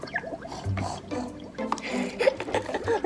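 Water is poured in the Roblox game Wacky Wizards, giving a run of soft drips and splashy liquid sounds with scattered clicks, fairly quiet and close.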